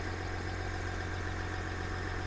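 A 2020 Chevrolet Silverado 1500 RST's inline six-cylinder turbo diesel idles steadily, a constant low rumble with even vibration, close by and with no talking over it.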